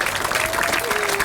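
Audience at a school groundbreaking and time capsule ceremony applauding a building committee, a short burst of dense, steady clapping close by.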